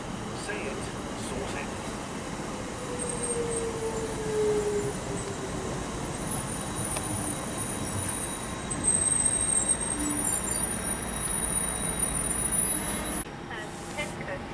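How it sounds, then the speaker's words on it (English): A long Thameslink or Southeastern train crawling up a steep incline near Greenwich, a steady low rumble with faint squeals, continuous and moderately distant, with some speech over it. "Now we've got a longer train arriving, a Thameslink train I believe, or Southeastern"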